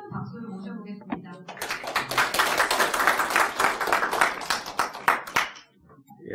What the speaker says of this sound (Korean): 큰 박수를 모셔보겠습니다.